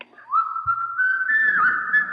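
A lone person whistles the tune Yankee Doodle, a clear, sustained melodic line drifting slightly in pitch, fairly close and steady for about two seconds, with a soft thump partway through.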